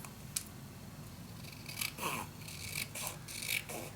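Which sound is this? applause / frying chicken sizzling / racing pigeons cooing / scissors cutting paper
scissors cutting paper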